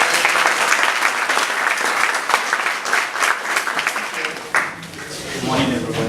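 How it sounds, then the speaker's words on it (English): Audience applause at a national debate championship, a dense, sustained wash of clapping from a large crowd that carries steadily for about six seconds, dipping briefly near the end before swelling again. "So once again, I'll ask you to clap for all our."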